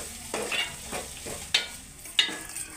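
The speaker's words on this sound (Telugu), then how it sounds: "పోపు వేగిన తర్వాత చక్కగా వేగనివ్వాలి" Soft sizzling of a tempering with onion in a pan under a few spoon scrapes and taps at an irregular pace, fairly quiet and close.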